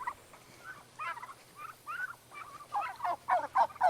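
Several turkeys on a farm gobble in repeated bursts, the calls growing louder and more crowded toward the end, heard fairly close with no talk.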